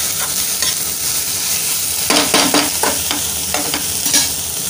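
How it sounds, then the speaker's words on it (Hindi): Potatoes fry in a pan under a constant loud sizzle, with several quick scraping stir strokes clustered partway through, close by and with no voices. "ये देखो इधर मैंने आलू फ्राई होने के लिए दिया है।"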